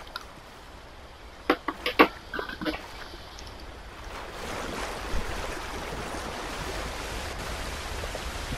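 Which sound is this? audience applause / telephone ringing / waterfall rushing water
waterfall rushing water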